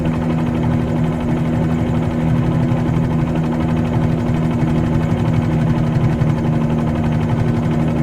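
A Bell 47G helicopter's piston engine and rotor in Microsoft Flight Simulator 2020 make a loud, steady low drone with a strong tonal hum and a fast, even throbbing beat that never lets up.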